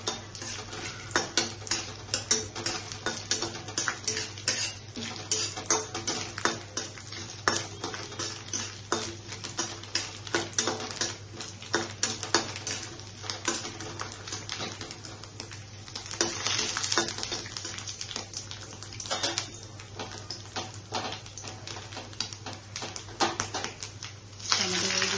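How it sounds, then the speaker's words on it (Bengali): Grated coconut frying in a pan for a Bengali dal tadka, with continuous sizzling and frequent scraping, clicking stirs of a utensil against the pan, close and busy throughout, with a voice talking at times. "এভাবে নারকেল করে ফ্রাই করে নিচ্ছি।"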